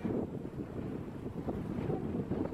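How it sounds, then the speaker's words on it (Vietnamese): A ferry boat speeds into a fishing harbor on a windy sea, its engine and hull rush blending with heavy wind buffeting the microphone and splashing water, loud and continuous. "Những chiếc xuồng đò dịch vụ đưa đón các ngư dân từ các ghe neo đậu ngoài khơi đi vào trong bến cảng này."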